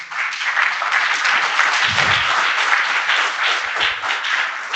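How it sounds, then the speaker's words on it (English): Full, steady applause from a conference audience after a talk on precise location for AI robots at DePIN Day Singapore, dense and continuous for the whole stretch. "Let's give Mike a round of applause"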